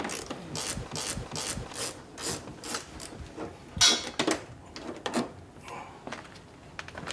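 Torx bit ratcheting to loosen a stock part on a 2024 Harley-Davidson Low Rider ST, a run of quick close clicks at a steady rhythm, then a few louder scattered metallic clacks and rubs.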